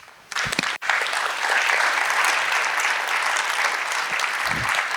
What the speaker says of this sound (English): Let's clap it up for the panel.